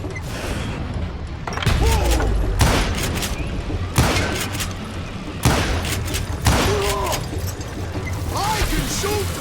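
Gunfire in the Western shooter Call of Juarez Gunslinger: a handful of loud, sharp shots spaced a second or two apart, each with a booming tail, with mechanical clicks and a voice talking between them.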